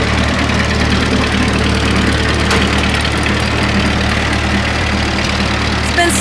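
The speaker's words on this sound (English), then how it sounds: "look who got the tractor going" A tractor engine, just jump-started after sitting idle in a driveway, runs at a steady idle with a continuous low, knocking rumble and vibration at constant loudness throughout.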